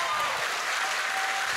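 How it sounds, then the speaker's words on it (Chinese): Audience applause at an outdoor seaside concert at the Esplanade, Singapore, a dense, even wash of clapping from a crowd filling the whole short stretch without pause. "我可不可以听一些掌声？"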